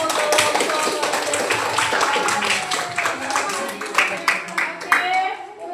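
Classroom applause after a student presentation, a burst of many hands clapping that fills the room and thins into scattered claps toward the end, with voices chattering underneath.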